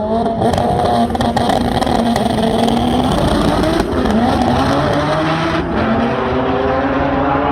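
A forced-induction drag race car makes a run at Import FaceOff Las Vegas, its engine roaring loud and close with rising revs through gear changes, backed by crowd and track noise.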